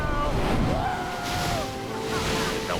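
Ocean breakers crash and wash around a small boat made of duct tape, a continuous surf roar with wind buffeting, and excited voices faintly under it.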